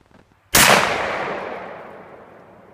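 A single loud gunshot fired outdoors, a sharp close crack followed by a long decaying echo rolling away over about two seconds.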